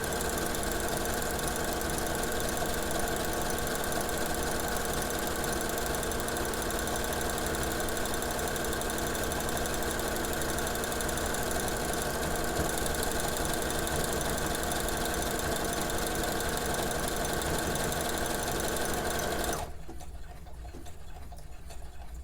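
A sewing machine stitches an open zigzag buttonhole with a continuous rapid mechanical chatter, steady and close for about twenty seconds, then stops abruptly, leaving a quieter hum near the end.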